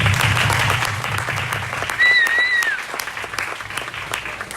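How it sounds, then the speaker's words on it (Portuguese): Audience at a university lecture on the 2030 Agenda applauding the speaker Thiago: sustained, even clapping from a crowd, loud and close, with a brief tonal squeak sounding over it midway. "Uma salva de palmas."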